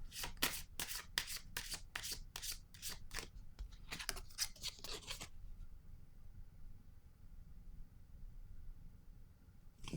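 Tarot cards are shuffled and drawn in a quick series of crisp riffling flicks close by, then the handling stops and quiet follows.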